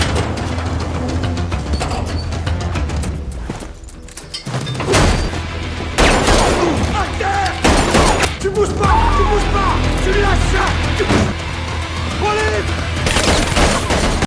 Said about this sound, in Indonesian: Terjadi baku tembak dalam penyergapan itu.